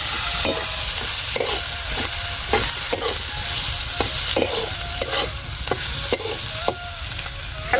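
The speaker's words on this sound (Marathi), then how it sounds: "वाटण वाटलेलं आहे हे परतून घेते" A ground spice paste fries in a pan under a constant loud sizzle, with a spoon scraping and knocking against the metal in a steady rhythm of about a dozen strokes.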